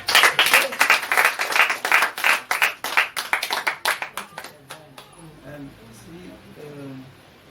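A church congregation claps loudly in rapid bursts, forming a busy stream of close hand claps that thins out and fades while voices carry on beneath.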